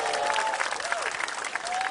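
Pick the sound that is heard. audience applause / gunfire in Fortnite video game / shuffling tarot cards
audience applause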